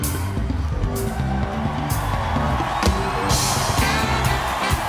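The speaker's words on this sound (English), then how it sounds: "And the crowd goes wild." A crowd at a live concert cheers and whoops over the music, a loud sustained roar with scattered shouts.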